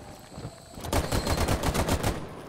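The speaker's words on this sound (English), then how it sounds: "Jesus, this gun sounds so good though. Holy shit, a 308. Fucking spear 308." A Spear .308 rifle fires a rapid automatic burst in the Rainbow Six Siege video game. The sharp, punchy shots come in quick succession, loud and close, with no talking over them.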